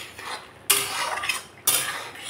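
Spice paste with onion and tomato is stirred and fried in a pan for a pabda fish curry, with two sharp scraping strokes of a utensil against the pan over a soft sizzle, close and with no talk.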